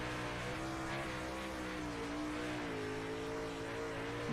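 Super Late Model race car heard onboard at Eldora Speedway in iRacing, a steady, dense engine drone with harmonic whine that shifts pitch slightly as the car works around the track, continuous and unbroken.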